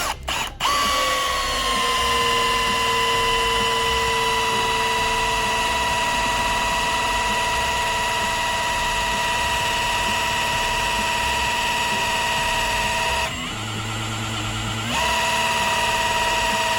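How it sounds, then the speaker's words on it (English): A drill spins to prime the oil pump on a Mercruiser 502 marine V8 being built to 549 cubic inches, a steady loud whine after a short click start, its pitch dropping briefly under load near the end. "let's fire up our drill and we'll see if we got some oil pressure here"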